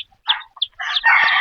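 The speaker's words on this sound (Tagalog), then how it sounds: "So ito po yung inahin guys ng mga sisiw." A mother hen with chicks clucks close by in a few short bursts, then breaks into a longer, louder run of calls.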